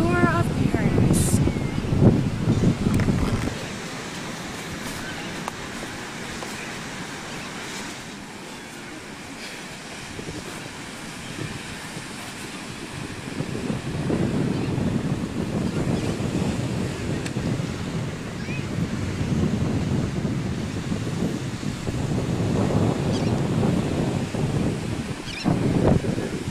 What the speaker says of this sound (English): We are, yes, here live on Gulf Shores Beach.